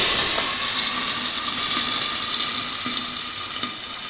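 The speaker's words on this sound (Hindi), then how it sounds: "थोड़ा सा पानी लेके इसको गलाने के लिए थोड़ा सा इसमें पानी डालते हैं" Water hits a hot pan of browned onions cooked in ghee or oil for mutton yakhni pulao, producing a steady loud hissing sizzle with faint crackles that fades only slightly throughout.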